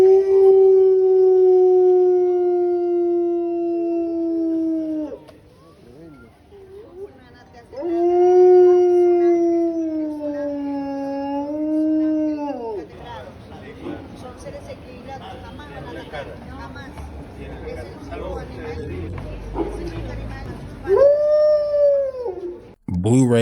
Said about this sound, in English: Just out here howling in the streets, all majestic.